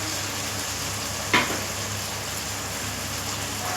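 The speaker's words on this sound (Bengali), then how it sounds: "আর একটু জল দিয়ে দেবো।" Spice paste for a vegetarian potato curry sizzles steadily in a pan; water splashes in with a brief louder hiss, then the even frying continues close and unbroken.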